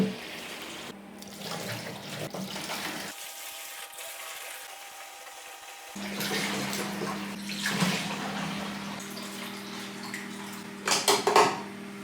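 A garage tap runs water into plastic containers during a 1920s house renovation, a steady rushing fill with a pause in the middle, followed by some clunks and knocks as containers are moved.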